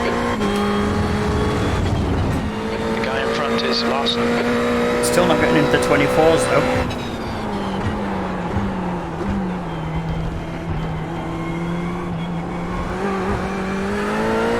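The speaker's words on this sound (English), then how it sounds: "See how many times I on and off the throttle just there trying to get it around" A Ferrari 488 race car engine in iRacing at Laguna Seca hums and revs with the throttle repeatedly blipped on and off, pitch rising and dropping unevenly, while someone talks over it throughout.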